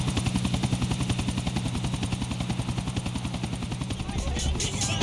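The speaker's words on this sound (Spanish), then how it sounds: "sigue el helicóptero" A helicopter's steady rotor thumping chops loudly throughout in the video game Grand Theft Auto 4, close and continuous, with faint other noises toward the end.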